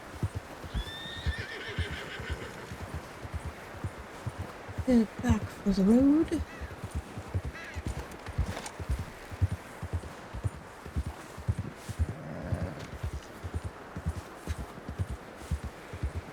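Horse hooves clip-clop steadily at a walk in the video game Red Dead Redemption 2, with a loud whinny partway through; someone speaks briefly over the sound.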